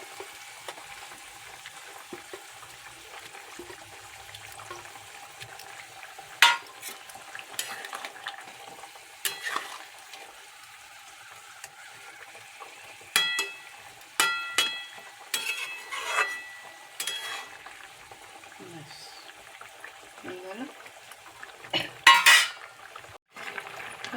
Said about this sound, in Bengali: ঝোলটা টেনে এসছে তো এবারে কোপ্তাগুলো দিয়ে দিলাম